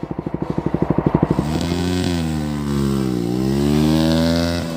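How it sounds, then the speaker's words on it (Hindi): A motorcycle with a loud aftermarket exhaust putters rhythmically at idle, then the throttle opens into a sustained, rising and falling rev, close up. "ये है आदिल साउंड इस बाइक का, देखो"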